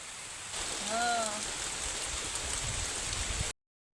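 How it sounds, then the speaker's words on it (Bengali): Steady rain falls on a home garden, a continuous even hiss of drops that stays moderately loud throughout, with a brief tonal whistle-like sound near the start before the clip cuts to silence. "আর বৃষ্টিটাও চলে এসছে"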